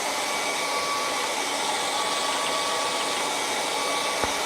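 A hair dryer blowing on wet paint on a sunrise painting, a loud, steady, close whooshing drone that runs unbroken with no talk.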